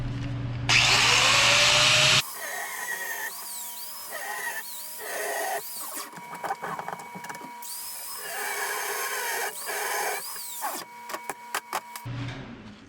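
A power tool whines and grinds in long, uneven bursts, cutting off a car's exhaust bolts, changing pitch as it cuts, with stops and starts and a loud harsh section near the beginning.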